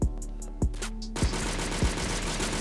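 Heavy .50 caliber gunfire from the video game Pixel Strike 3D: four loud, booming shots spaced about half a second apart, each with a sharp crack and a ringing tail over a steady background din.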